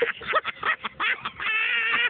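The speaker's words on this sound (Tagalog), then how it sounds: "Agi ang pato ganina." A duck quacks in a run of short nasal calls close by, repeated in a quick uneven rhythm and ending in a longer drawn-out call, with no talk over it.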